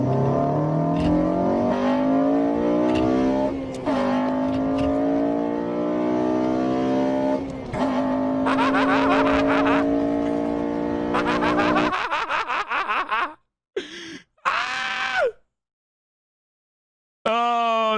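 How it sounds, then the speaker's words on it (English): A Honda engine revs hard as VTEC engages, climbing in several rising, screaming sweeps between gear-change dips before cutting out abruptly near the end. "Honda owners when VTEC kicks in."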